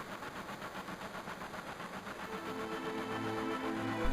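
Train from the Final Fantasy VII game in Midgar, a steady mechanical rumble with rhythmic clatter, holding level and swelling slightly louder near the end, with no voices over it.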